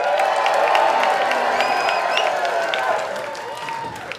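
An audience at a variety show claps and cheers, dense applause with a few whoops swelling then tapering, moderately close, with a voice speaking over it.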